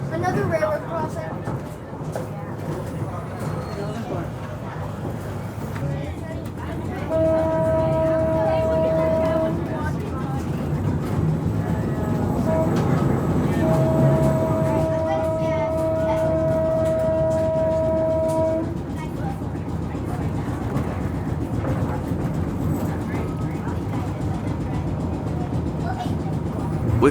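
Steam locomotive No. 76 rolls through a railroad crossing, a long steady horn or whistle tone sounding twice over continuous rumbling rail noise, with voices talking throughout.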